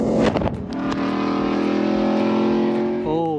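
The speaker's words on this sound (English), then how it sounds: "Mario's doing donuts in my truck." Engine of a truck doing donuts, a Factory Five XTF pre-runner build, revving loud and close in a steady sustained roar that rises and shifts pitch near the end, with brief scuffs at the start.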